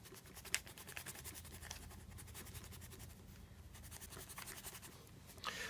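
A board being erased, a faint scratchy scrubbing with repeated short strokes in a quiet classroom, no talking.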